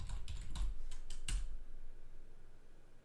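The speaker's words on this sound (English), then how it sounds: "By typing whoami, I will ensure that I am root now." Quick burst of keystrokes on a computer keyboard as a command is typed at a root shell prompt, several close, crisp clicks in the first second and a half, then quiet room tone.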